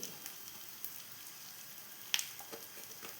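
Tomato chutney base frying in a pan as asafoetida powder goes in, a soft steady sizzle with a brief sharper crackle partway through.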